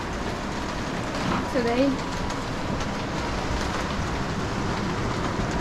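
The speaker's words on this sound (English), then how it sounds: "we have torrential rain over here" Torrential rain pours in a steady, dense hiss that fills the whole clip. A voice speaks faintly underneath it.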